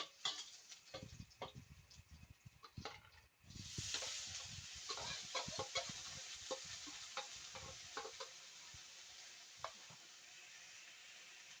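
Minced banana heart sautés with garlic in a hot pan, starting with clattering stirs and then swelling into a loud, constant sizzle broken by spatula scrapes and light metal taps.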